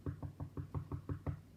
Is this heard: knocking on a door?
yes